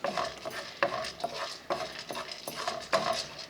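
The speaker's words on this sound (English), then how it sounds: "This is a 1 cup of pine nuts. I'm going to put it in here and start toasting it." A cup of pine nuts toasting in a dry pan, stirred and shaken with a light sizzle and repeated scraping clinks against the pan, close and fairly quiet, no talking.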